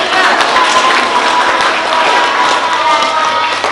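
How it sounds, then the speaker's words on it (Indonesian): Classroom applause rings out for group 3 after their presentation in a vocational-school fashion design class, a dense, steady clatter of many hands clapping close by for nearly four seconds. "Beri aplaus untuk kelompok"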